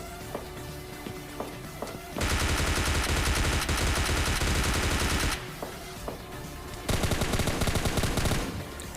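M4 rifle fire in PUBG Mobile Lite, two long sustained bursts of rapid automatic shots, close and loud, separated by a short pause with scattered single shots and game ambience.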